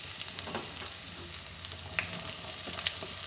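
Chopped onion sizzles and fries in ghee in a pan for an egg ghee roast, a steady, soft crackling hiss close by with occasional stirring clicks and no talking.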